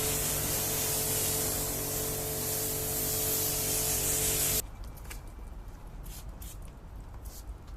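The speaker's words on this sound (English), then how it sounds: "before the second application was sprayed and rinsed off" Meguiar's Hybrid Ceramic Wax sprayed onto a dirty Mercedes E220d as a steady, loud hiss lasting several seconds, then cutting abruptly to quieter water rinsing and faint background noise.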